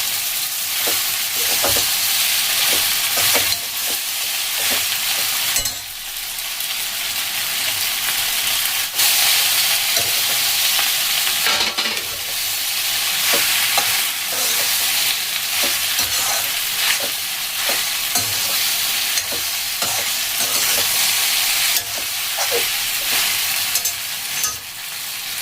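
Drained pasta tossed and stirred in a hot frying pan for a morning tiffin dish, giving a steady close sizzle with repeated scraping and clacking of the spoon throughout, no talking.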